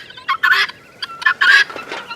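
Turkey tom gobbling nearby in two quick bursts of rapid, rattling calls, loud and clear with short pauses between.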